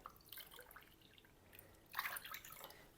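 Water poured into a pot holding 2 cups of rice, quiet splashing and trickling that swells briefly near the end.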